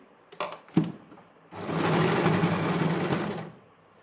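A sewing machine gives a couple of short clicks and then one run of rapid stitching for about two seconds, close and fairly quiet, while sewing leftover suit fabric into a bag.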